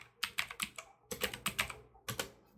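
Quick bursts of keystrokes on a computer keyboard, three short clusters of close, crisp clicks separated by brief pauses, quiet and alone.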